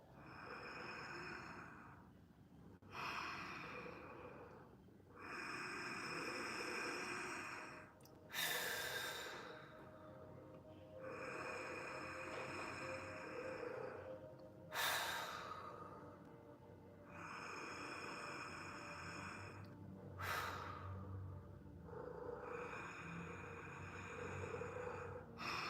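Slow, deep breaths in a guided relaxation exercise, long whooshing exhales repeating about every five to six seconds, close and fairly quiet, with no talking over them.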